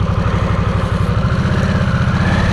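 A brand-new Harley-Davidson Nightster motorcycle engine runs close by in sport mode with a loud, steady pulsing throb and no talk over it.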